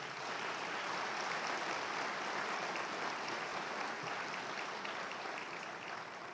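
A large commencement ceremony crowd applauds the PHSC Foundation, dense and steady clapping that fills the hall from a distance at an even level throughout.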